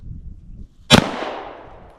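A single sharp shot from a DA/SA handgun fired one-handed cracks loudly and close, followed by a short reverberant decay, with faint low rustling before it.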